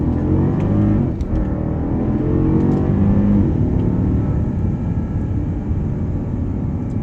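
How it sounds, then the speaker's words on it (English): A 2013 Mercedes S550 accelerates on the road, its engine building into a smooth, steady, rising hum heard from inside the cabin, with no talking. "I'm gonna go ahead and get on the power here again."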